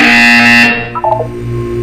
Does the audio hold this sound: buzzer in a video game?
yes